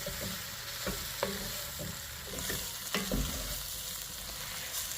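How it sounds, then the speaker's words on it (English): Flour being stirred through beef and vegetables in a stew pot, spoon scraping and knocking in a few distinct strokes over a steady low sizzle, close and moderately loud with no talking. "So I'm going to coat everything, combine, and cook that flour for about a minute or so,"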